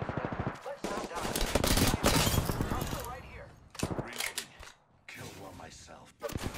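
Rapid gunfire from the Apex Legends video game comes in loud, dense bursts separated by brief pauses, mixed with game effects and voices talking.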